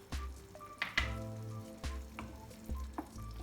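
Turkish lasagna, Kayseri yağlaması, bubbles and sizzles in a pan on high heat as the liquid cooks down, with close, steady frying crackle and intermittent louder pops and stirring knocks.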